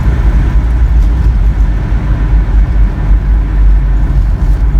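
A 1985 Toyota pickup engine idles steadily nearby, a low continuous rumble with no one speaking.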